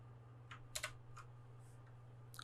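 A computer keyboard in a quiet room gives a few sharp, faint key clicks, including a Ctrl+Enter press to start a Blender render, with a steady low electrical hum underneath.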